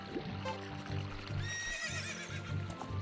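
A horse neighs in the Ocarina of Time game, a rising then falling whinny mixed with hoof clops and a watery background, all fairly quiet.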